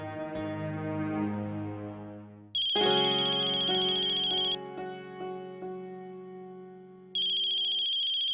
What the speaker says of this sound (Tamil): கார்த்திக் தான் ஃபோன் பண்றாரு